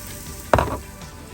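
Carrots, garlic, onions and celery for spaghetti sauce sizzling in a pan, with one brief, loud stir scrape over a low, steady frying hiss.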